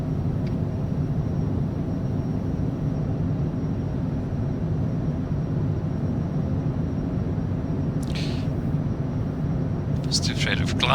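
A fixed-wing aircraft climbs just after takeoff in gusty crosswind, with a steady, loud engine and airflow rumble inside the cockpit that holds constant throughout, and a couple of brief higher-pitched bursts near the end.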